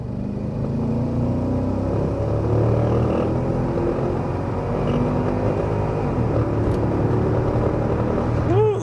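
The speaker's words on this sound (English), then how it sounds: "It just gurgles, that big V8, responds really quickly on the gas pedal" A big V8 car accelerating hard under aggressive driving, its gurgling engine note rising and falling steadily and loud throughout, with no talk over it.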